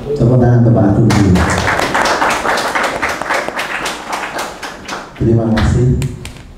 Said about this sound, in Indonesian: Tepuk tangan untuk Pak Agung dulu.